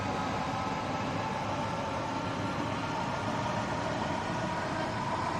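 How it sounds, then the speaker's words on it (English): London Overground electric train running in Train Sim World 2, a steady, dense rumbling drone with a constant hum, unbroken and fairly loud throughout, with no talking. "I can't get over how cool this train actually looks."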